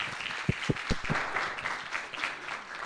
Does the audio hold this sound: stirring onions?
no